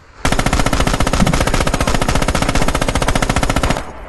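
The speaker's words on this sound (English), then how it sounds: "the satisfyingly realistic sounds of the highly detailed guns" Sustained machine gun fire in the video game Red Orchestra 2, a single loud, rapid, unbroken burst of evenly spaced shots lasting several seconds before cutting off abruptly.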